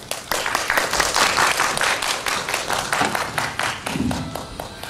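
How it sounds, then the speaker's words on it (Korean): Audience applause welcoming a speaker, an art history professor, at a lecture on Korean women artists: dense, sustained hand clapping throughout, close and fairly loud, with individual claps audible in the mix. "큰 박수로 환영해 주시기 바랍니다."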